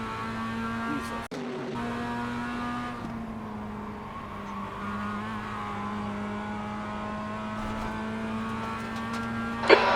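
Mazda MX-5 race car lapping Summit Point track, a steady in-car engine drone holding high revs for the whole stretch with a sharp clunk early and a brief louder burst at the end.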